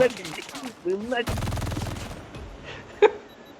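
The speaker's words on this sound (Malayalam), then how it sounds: "എന്നാ വെടിയാ" Gunfire in the mobile shooter game Call of Duty Mobile, a dense burst of rapid automatic shots in the middle, with someone talking excitedly before it and a sharp single crack near the end.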